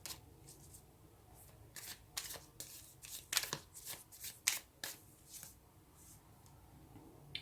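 Tarot cards being handled and drawn, giving soft papery shuffles and slides in short bursts with a few sharper flicks, close and quiet with no talking.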